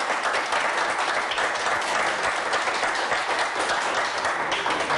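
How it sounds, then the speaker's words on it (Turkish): Audience clapping for themselves at a gathering, a thick, even sheet of applause from many hands, steady and moderately loud for the whole stretch with no talk. "Bir alkışlayın kendinizi."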